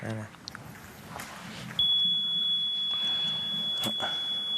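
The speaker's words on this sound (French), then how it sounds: "On a oublié d'éteindre le buzzer." A buzzer left switched on at a pétanque match holds a steady high electronic tone. Talk and crowd noise sit under it.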